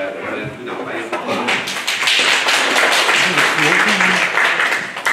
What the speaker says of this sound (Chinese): 我们鼓掌欢迎好吗？